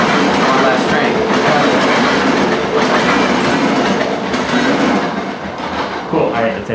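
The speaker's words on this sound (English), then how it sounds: "We need one last train." A train rolls past close by, a loud, steady rumble with rhythmic clickety-clack of wheels on rail joints, broad and dense throughout before easing slightly near the end.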